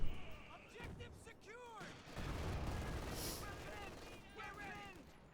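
In the Company of Heroes 2 game, a mortar fires a smoke barrage, muffled booms and whooshing shells layered with rumbling battle noise and whistling projectiles, under an excited commentator's voice.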